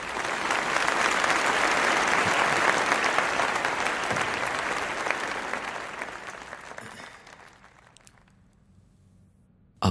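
An audience at a film event claps loudly and steadily, then the applause thins and fades out toward the end, with no voices.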